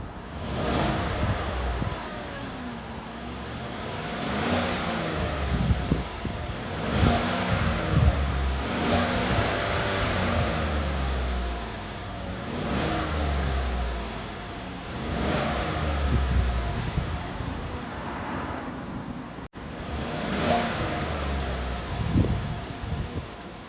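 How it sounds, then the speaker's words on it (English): A stock four-cylinder car engine idles steadily after a cold start, with the revs rising and falling a few times in swells. The sound is continuous and fairly near, with some wind noise and no talk. "I'm going to give it a few minutes to warm up, and then I'm going to rev it up and show you guys what it sounds like stock."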